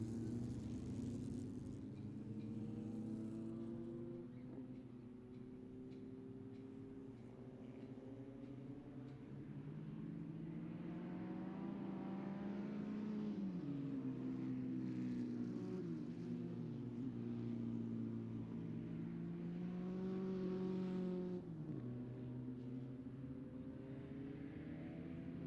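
Formula Vee race cars circle a track in a sprint race, engine notes rising and falling as the cars shift and pass, a moderately distant, continuous drone.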